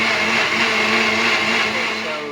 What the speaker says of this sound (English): And now we'll blend this up, and that'll be our salsa.